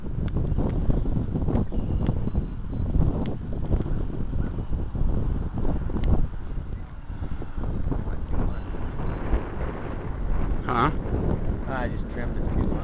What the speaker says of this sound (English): Is that the wind bouncing it around?